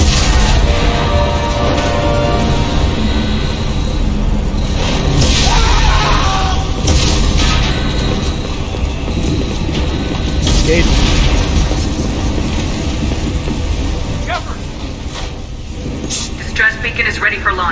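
Explosions rip through a starship under attack in Mass Effect 2, a dense rumbling barrage with repeated booms and crashing debris, loud and continuous, with voices shouting over the chaos.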